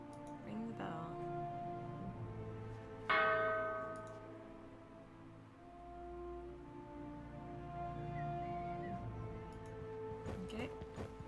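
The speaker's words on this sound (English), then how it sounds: "Ring the bell." Bell ringing in the video game The Dwarves, one loud bright strike with a long ringing decay that fades over several seconds, a person talking around it.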